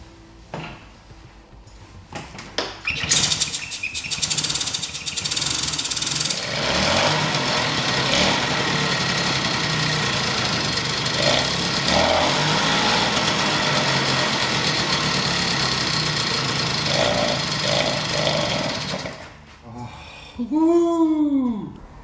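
A 1970 BSA Ariel 3 moped engine, run on strimmer fuel, starts after a few quiet knocks and settles into a loud, steady, buzzing idle that holds for about fifteen seconds, then cuts out, with a voice speaking at the end.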